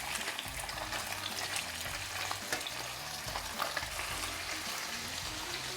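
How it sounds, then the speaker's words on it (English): Fish fillets fry steadily in a pan on medium heat, a dense, continuous close sizzle and crackle with faint stirring clatter underneath, no voices. "you can add the fillets. Let it cook for 2 minutes."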